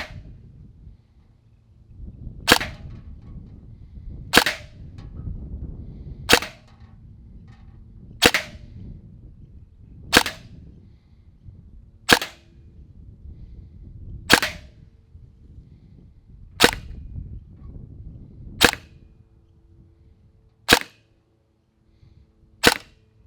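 Gel blaster firing iHobby gel balls, eleven sharp cracking shots spaced about two seconds apart over a faint low background rumble.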